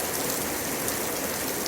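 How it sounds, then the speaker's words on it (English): Heavy rain pours down hard outdoors, a dense, even hiss of drops striking surfaces that fills the whole stretch without pause or voices. "The beautiful sound of the rain."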